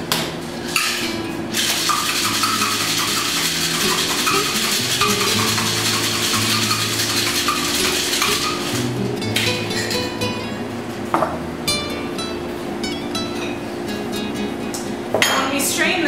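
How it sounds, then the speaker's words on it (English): A jalapeno margarita shaken hard with ice in a cocktail shaker, a steady, rapid rattling and clinking of ice that runs loud and continuous for most of the clip, then breaks into scattered clinks at the end. "We're going to top it with ice and shake."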